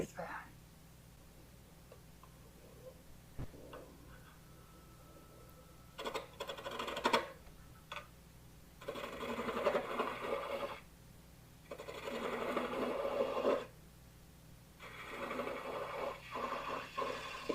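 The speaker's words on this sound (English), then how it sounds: "The joys of using somebody else's lathe." A wood lathe turns an offset sandhill crane piece during a woodturners' club meeting demo, with a person talking over quiet stretches and several bursts of rough, whooshing cutting noise a few seconds long.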